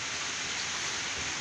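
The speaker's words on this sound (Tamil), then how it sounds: "இப்போ மழை பெஞ்சிக்கிட்டு தான் இருக்குது" Steady rain falling in Chennai during a medium wind, a continuous broadband patter and hiss that stays even and fairly close throughout, with no voices.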